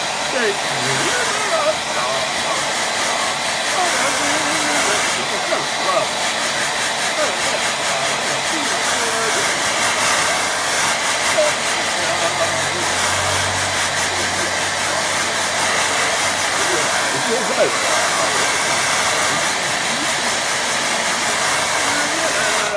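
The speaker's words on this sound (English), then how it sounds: "let's give that a blast with dryer and all." A hair dryer blows loudly and steadily throughout, a continuous rushing whoosh with no pauses.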